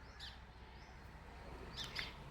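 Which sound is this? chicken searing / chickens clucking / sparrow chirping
sparrow chirping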